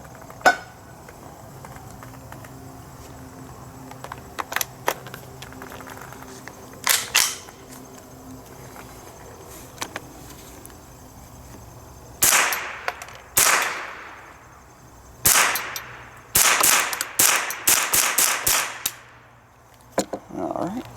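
.22LR firearm shots ring out during a cycling test with failure-to-eject problems: a few sharp isolated cracks early, then clusters of close, loud reports with brief gaps between them in the second half, over a quiet background.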